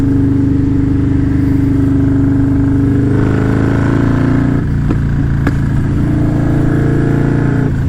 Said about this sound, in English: This is the loud, obnoxious bike, and let's make it loud and obnoxious.